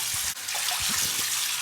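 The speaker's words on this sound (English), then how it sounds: "Just gonna run this under the water, soak it a little bit" Water running hard from a tap into a sink while a razor or brush is soaked before shaving, a loud, close, continuous hiss with a few low knocks underneath.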